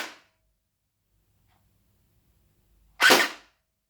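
An STD6 gel blaster fires a single semi-automatic shot, one sharp, loud crack standing alone after a long quiet pause, with a brief fading noise at the very start.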